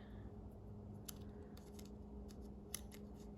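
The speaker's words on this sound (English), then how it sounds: "Just trim right to the edge though." Scissors trim a paper card overlay for a Halloween trick-or-treat card, with a few quiet, scattered snips over a faint, low background hum.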